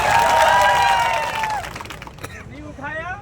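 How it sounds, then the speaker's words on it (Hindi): Crowd applause and cheering from a large outdoor gathering at a tribal land-rights protest meeting, loud at first with shouting voices, then fading into scattered claps and a voice near the end. "बजाओ तालियां।"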